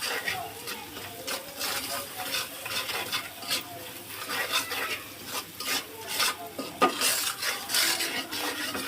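Spice paste for a taro and hilsa curry is stirred and fried in a pan with oil and salt, giving a steady close scraping and sizzling texture with a few utensil clinks.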